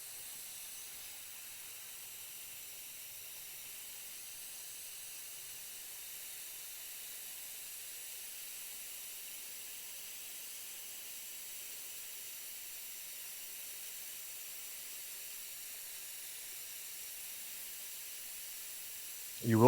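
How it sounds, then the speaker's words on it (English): Propane gas hisses steadily as a 1 lb canister is refilled outdoors, a faint, continuous high-pitched hiss that stays even until a brief bump at the very end. "you go ahead and start filling and wait for gas to come out of that hole"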